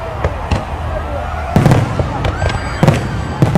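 Fourth of July fireworks show outdoors, with sharp bangs and crackling bursts popping at irregular intervals, a few louder booms standing out over a steady background rumble and faint whistling.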